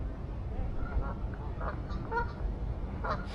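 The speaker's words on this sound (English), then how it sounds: "This is a water bird. I'm not sure what kind, but check it out." A water bird gives a few faint, quacking calls spaced apart over a low, steady outdoor background hum.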